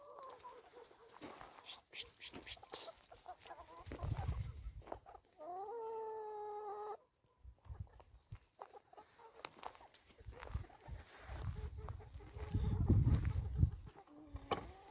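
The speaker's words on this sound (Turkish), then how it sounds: "Evet, şimdi de bizim tavukların yanına geldik." Chickens cluck and squawk close by in a yard, with scattered rustling and a brief rising tonal warble in the middle.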